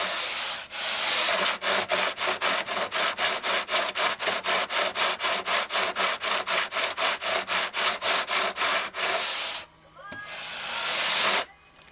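A carbide tool grinds into an old finish during crash repair stripping, with a loud, steady rasping scrape. About thirty rapid rhythmic strokes run back and forth, then a short pause and one final longer pass.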